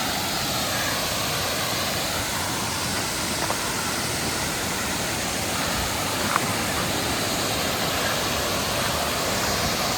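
Waterfall in Wintergreen Gorge near Erie, Pennsylvania, heard as a steady, full broadband rush of falling water that holds an even level throughout with no voices.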